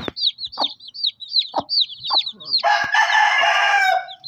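Baby chicks peep continuously in rapid, high chirps, with a few soft thumps in between, and a louder burst of chick cheeping near the end.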